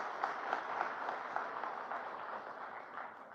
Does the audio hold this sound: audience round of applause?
yes